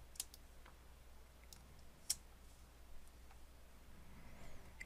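Computer keyboard keys pressed for a Shift+Page Down shortcut, a few sharp isolated clicks spaced over quiet room tone, one click louder than the rest.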